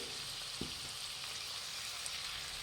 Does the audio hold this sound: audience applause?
no